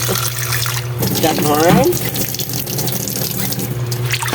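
Tap water runs steadily into a sink while malunggay and sweet potato leaves are rinsed, a constant close hiss with brief splashing; someone talks over it.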